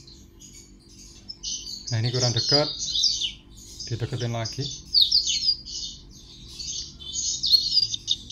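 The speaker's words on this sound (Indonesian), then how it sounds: "Ini betinanya kelihatan birahi mondar mandir sambil cuit-cuit ya" Female blackthroat chirps in quick high twittering bursts throughout, close and fairly clear, while someone talks over the calls twice.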